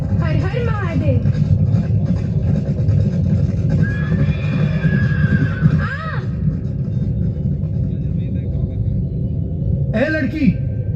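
A horse whinnies several times, rising and falling cries spread across the scene, over a constant rumbling crowd and music bed at a staged historical drama, with people speaking throughout.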